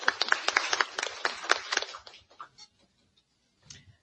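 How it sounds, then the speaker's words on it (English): Applause from a conference audience for the sponsor Baker & Taylor: dense, steady clapping for about two seconds that thins out into a few scattered claps and then quiet, with faint shuffling near the end. "let's clap for Baker & Taylor"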